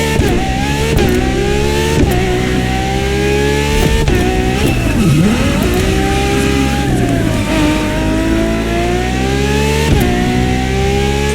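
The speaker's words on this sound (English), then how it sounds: "for this second lap, you'll be driving the FXXK" Ferrari FXX K supercar engine in The Crew Motorfest, a loud, continuous high-revving roar with rising pitch sweeps and brief dips at gear shifts, close and alone throughout.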